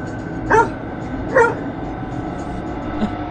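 A dog barks in two sharp, close bursts about a second apart, followed by a faint whimper, over a steady background hiss.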